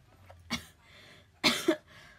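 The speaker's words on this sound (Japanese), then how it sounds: "今日異常に咳が出るんだよ。" Two dry coughs from a nearby person, the second a doubled burst, are separated by a short quiet gap.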